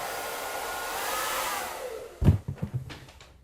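A hair dryer blows with a steady, loud whooshing hiss for about two seconds, then cuts off, followed by a few soft thumps and knocks.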